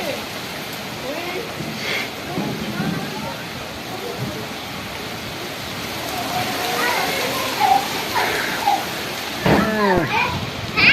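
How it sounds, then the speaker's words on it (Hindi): Steady rain hiss fills the background while children shout and chatter nearby, voices rising louder toward the end. "ये देखें अब बारिश आई"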